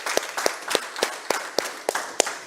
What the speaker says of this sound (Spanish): Yo quiero que te des un aplauso por estar aquí